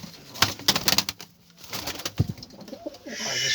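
Close male pigeons coo in short bursts, with a brief flutter of wings and no voices.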